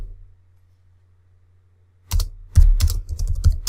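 Typing on a computer keyboard while entering a field validation rule in Microsoft Access: a silent pause, then a burst of close, dry key clicks in an irregular rhythm over the final second and a half.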